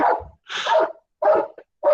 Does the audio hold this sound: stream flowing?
no